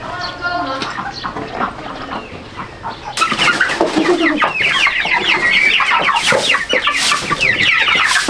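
Chickens cluck and squawk on a farm at feeding time, the busy calls growing louder and denser after a quieter opening, with faint voices mixed in.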